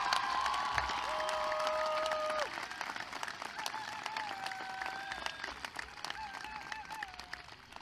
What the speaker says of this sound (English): please, a large round of applause to all of them